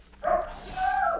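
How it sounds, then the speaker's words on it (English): Dogs bark and yip in a fantasy role-playing game, two short bursts of canine sound, fairly close and moderately loud. "The dogs are barking in the background."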